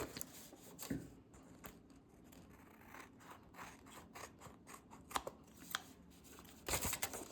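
Scissors snipping through paper in a series of short, crisp cuts, close by, with some rustling of paper between the snips.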